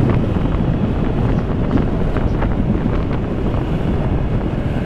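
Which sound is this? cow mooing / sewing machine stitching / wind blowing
wind blowing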